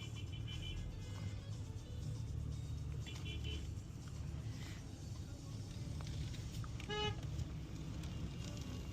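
A car horn sounds in a jammed street in Tirana, Albania. Road noise rumbles throughout, with faint honks early on and a loud, clear toot near the end. A few voices are briefly heard.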